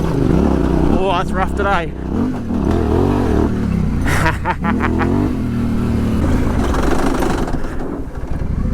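Yamaha Tenere 700 motorcycle ridden off-road on single track, a loud steady engine drone with rising and falling revs that carries on throughout under a rider talking over wind noise.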